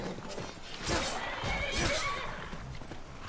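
A horse in the video game Skyrim lets out a clear whinny, with a rising and falling neigh close up, followed by a second cry and faint hoof clops underneath.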